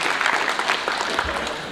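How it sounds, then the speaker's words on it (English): A brief burst of audience applause at a matric awards ceremony, dense, even clapping from a large crowd at moderate loudness with no break. "Can we get the leadership of Pixley just to stand up so that we can give them an appropriate, nice round of applause?"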